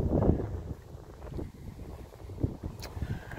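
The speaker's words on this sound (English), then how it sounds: "It's flapping in the wind" Loose papers on an outdoor community bulletin board along a river walk flutter and rustle in a steady breeze, with gusty wind buffeting the microphone throughout.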